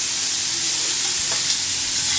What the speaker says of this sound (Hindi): ये तमाम वेजिटेबल चिकन तकरीबन हो चुकी हैं फ्राई